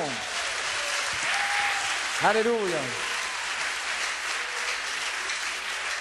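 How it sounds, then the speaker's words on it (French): A congregation applauds at a church service in Techiman, Ghana, with dense, sustained clapping filling the whole stretch while a voice briefly calls out over it. "Give him a hand of praise."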